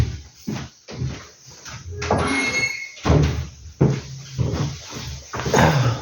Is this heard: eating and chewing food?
no